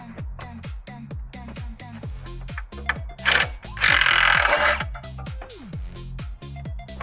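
Impact tool removing bolts from a torque converter rattles in repeated rapid hammering bursts, close and loud, broken by a louder whirring run in the middle.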